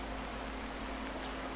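Heavy rain in a storm at sea, a dense steady hiss of falling water with a low wind rumble underneath, loud and unbroken.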